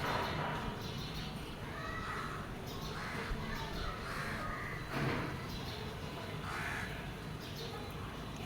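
Several crows caw repeatedly near a large monkey sitting and eating on a neighbouring house roof, the harsh calls coming in overlapping bursts from moderate distance over a constant outdoor background hum.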